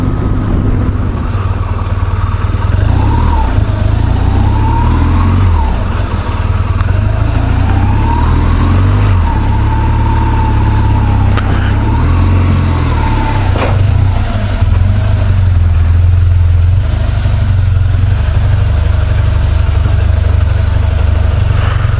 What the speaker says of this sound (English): So that's a dual sport or dirt bike.